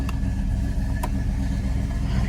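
A 1970 Buick Electra engine warming up, its steady mid-range rumble close and continuous with a slight rise in revs, no talking over it.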